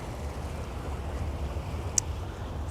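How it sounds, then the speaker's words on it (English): Water laps steadily at a Dubai waterfront under a low wind rumble, with a faint continuous wash, one brief sharp tick and no talk. "just hear the sounds of water first"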